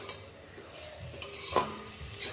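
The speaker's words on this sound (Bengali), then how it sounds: "এবারে ভালো করে সবটা মিশিয়ে ভেজে নেব" Jute greens and fish roe being stir-fried together in a pan, producing a quiet sizzle with scattered utensil scrapes and one louder stroke midway, no speech.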